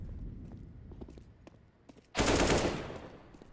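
An AK rifle fires a sudden burst of automatic gunfire in Counter-Strike, loud and close, after a stretch of quieter in-game footsteps and ambient noise.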